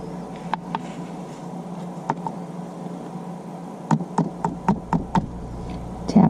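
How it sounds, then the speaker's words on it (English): A card dusted with white embossing powder is tapped against a surface to shake off the excess, giving sparse light knocks at first and then a quick run of sharper taps near the end, close and alone. "Tap off any excess and give it a good once over."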